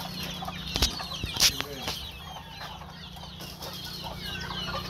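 Hens and a rooster cluck and call around a farmyard with a few sharp bursts and wing flaps early on, over a steady hum and background bird chatter.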